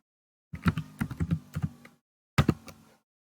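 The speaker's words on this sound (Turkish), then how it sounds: "Formülümü tekrar yazıyorum." Typing on a computer keyboard while entering a spreadsheet formula, a quick run of close, crisp key taps followed by a short pause and a few more strokes.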